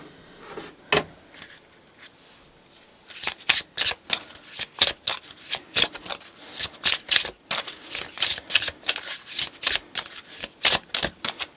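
Oracle cards being shuffled during a love tarot reading, a burst of riffling then a long run of rapid, crisp card slaps and flicks, close and clear with no talking.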